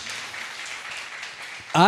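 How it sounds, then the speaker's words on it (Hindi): A church congregation claps steadily for a short stretch in a dense wash of applause, and a voice cuts in at the very end. "चलिए एक अच्छा ताली बजाया प्रभु यीशु मसीह के लिए"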